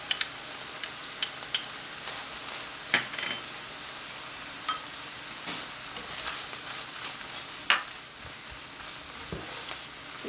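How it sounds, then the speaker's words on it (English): Ground beef with minced garlic browning in a pot for a one-pot taco pasta, a soft continuous sizzle with occasional light clicks and utensil taps, close and steady with no talking. "Alright, we're going to let that brown up a little bit."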